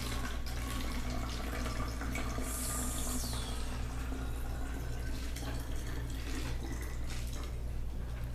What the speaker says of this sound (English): you wanna get your water bottle and start filling it up